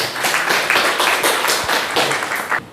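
Classroom of students clapping for a presenting group during a lesson on Ohm's law: a short burst of brisk, fairly close hand claps from a small group, uneven and lively, fading at the end.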